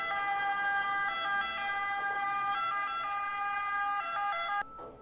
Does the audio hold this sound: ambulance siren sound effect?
yes